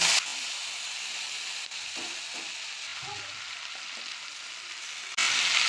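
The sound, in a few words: greens added to oil with bay leaf, dried chili, panch phoron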